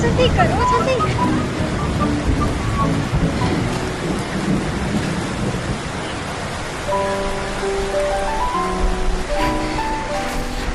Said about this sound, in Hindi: अरे ये तो बारिश स्टार्ट हो गई।